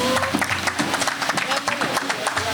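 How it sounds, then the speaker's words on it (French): An audience at a lottery prize-giving ceremony claps steadily, dense and continuous applause with loud mixed hand claps filling the whole stretch. "applaudissez s'il vous plaît"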